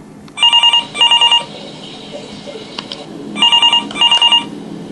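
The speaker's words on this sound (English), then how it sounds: "Phone!" A telephone bell rings in two bursts of rapid trilling double rings separated by a pause, loud and close, with faint background murmur between them.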